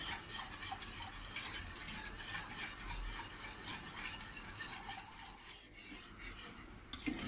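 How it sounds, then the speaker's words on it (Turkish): A spoon scrapes steadily and continuously around a pot of thickening milk pudding (muhallebi) with sugar, a quiet, close, rasping stir with no talk. "Evet muhallebimizi, muhallebimizi karıştırmaya devam ediyoruz."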